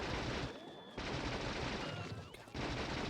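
Gun turrets in Factorio firing at a large bug, rapid overlapping bursts of automatic gunfire at moderate level, in two dense stretches broken by brief pauses.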